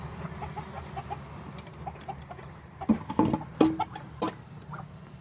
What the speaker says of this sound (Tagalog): meron kaming isang inahin na manok at saka dalawang barako naman